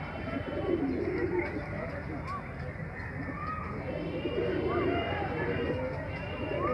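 Fancy pigeons cooing in low, soft, repeated calls, mixed into a steady murmur of background noise and distant voices.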